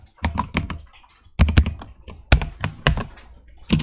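HTML code, a span tag with a background colour, is typed on a computer keyboard in close, bright bursts of clicking keystrokes separated by short pauses.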